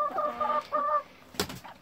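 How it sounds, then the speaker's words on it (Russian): Two brooding hens cluck close by, a couple of drawn-out, tonal clucking calls followed by a brief burst of scratchy noise and a soft trailing cluck, quiet and alone without talk. "Хочу показать вот наших двух курочек"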